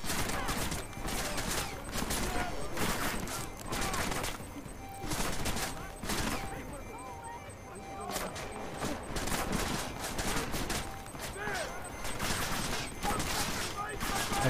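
Gunfire in the video game Deus Ex: Mankind Divided, repeated bursts of sharp shots and rapid volleys in clusters through the span, with a voice talking now and then amid the shooting.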